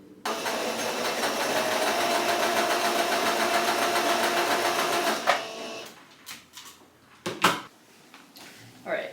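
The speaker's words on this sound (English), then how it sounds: "sew through right now at a 1/4 inch" A sewing machine runs a quarter-inch seam with a steady, close mechanical whir for about five seconds, then stops, followed by scattered handling clicks and rustles.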